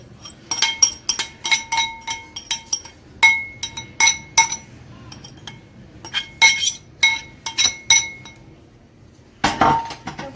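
A metal spoon clinks against a glass or ceramic bowl while mixing kısır, a bulgur salad with added greens, in repeated short taps and scrapes, near and fairly loud, with brief pauses between bursts.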